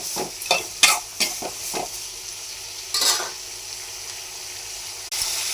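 Ginger and two cloves of garlic sautéed in a pan for a mixed chutney, with a steady sizzle broken by several sharp scraping strokes of a spoon stirring against the metal, and no voices.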